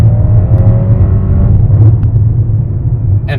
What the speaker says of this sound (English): We'll do a little bit of acceleration here.